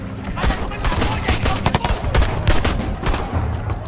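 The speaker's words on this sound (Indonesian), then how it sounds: "Di sini terjadi baku tembak antara polisi dengan para gangster di sana." Gunfire from a film shootout between police and gangsters, a loud dense barrage of rapid overlapping shots and bursts that continues without a break.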